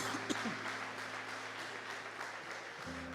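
A church congregation applauds together, a dense and steady wash of clapping that fills the whole stretch, with a sustained keyboard tone humming underneath and shifting near the end.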